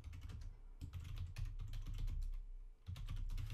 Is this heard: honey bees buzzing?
no